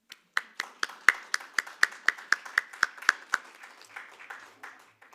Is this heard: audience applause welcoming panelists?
yes